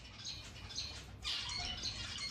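Budgerigars in an aviary chirp and chatter in quick, high squeaky bursts, fairly faint, with a soft busy background of twittering.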